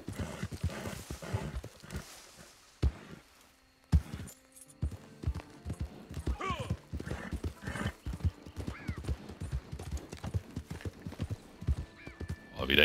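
Horse in Red Dead Redemption 2 Online, hooves thudding in an uneven, restless rhythm close by, with a few whinnies among the steps and a faint jangle of tack.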